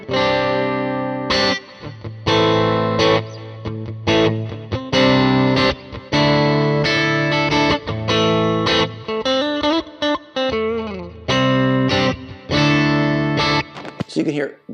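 An ESP LTD SN-1000FR electric guitar in its single-coil pickup mode plays loud, distorted chords and riffs through effects. Strummed bursts come with short gaps and bent notes near the end, and no one talks.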